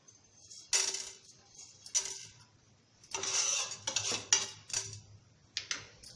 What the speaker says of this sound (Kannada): ಈಗ ಕಡಲೆಬೇಳೆ ಹಾಕ್ಕೊಳ್ತೀನಿ, ಎಲ್ಲ ಮಿಕ್ಸ್ ಆಗ್ಬಿಟ್ಟಿದೆ ಅದು.